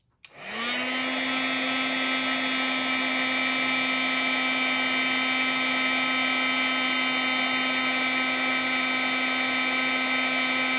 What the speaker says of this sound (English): my heat tool is a little bit louder than the current one because it is so old